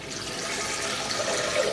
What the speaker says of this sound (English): Then you're going to want to add 4 cups of water.